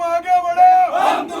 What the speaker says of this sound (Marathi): सर्व सदस्यांनी घोषणा देऊन जल्लोष साजरा केला